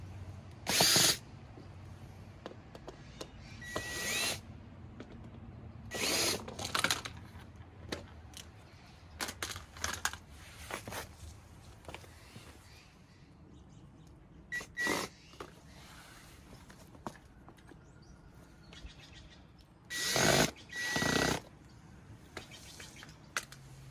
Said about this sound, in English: all I'm gonna do is unscrew these plastics real quick